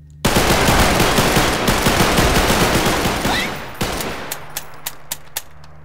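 Gunfire in a Garry's Mod roleplay game: a long, loud automatic burst that rattles on for several seconds, then tails off into a string of separate single shots spaced about half a second apart.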